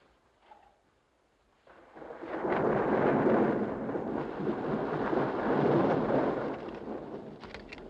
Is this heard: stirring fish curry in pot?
no